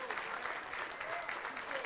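Basketball fans of a boys high school team cheer and clap steadily in a gym during a timeout, a dense continuous crowd roar with no pauses.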